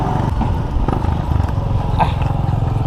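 A Suzuki Burgman Street scooter idles close by, its engine giving a steady low rumble with light mechanical rattles and clatter throughout.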